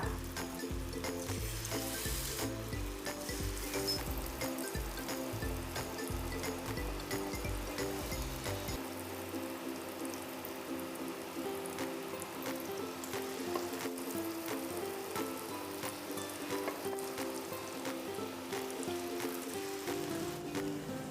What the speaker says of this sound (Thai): เราจะทอดไปเรื่อย ๆ นะคะ จนกระทั่ง มันฝรั่งมีสีเหลืองแล้วก็กรอบค่ะ